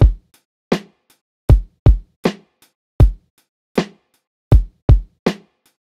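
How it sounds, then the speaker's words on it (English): A punchy hip hop drum beat of deep kicks and snappy hits in a steady groove, close and dry with no voices. "Pretty standard hip hop drums"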